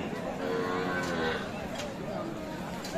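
Sahiwal calf and cows at a crowded livestock market in Aftabganj, with steady moos and bellows over dense crowd chatter and market noise throughout.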